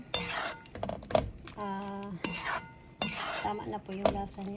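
A spoon scrapes and clinks against a pot while stirring ginataang langka with pork and spinach, in irregular close strokes; someone talks briefly between them.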